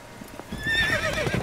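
Horse hooves clip-clop steadily in The Witcher 3 while a whinny with rising tonal harmonics cuts in partway, the gallop growing louder and closer over a dense game soundscape with no talk.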